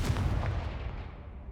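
A Confringo fire spell explodes in Hogwarts Legacy, one heavy booming blast that rumbles and fades away over a second, loud and close with no talk.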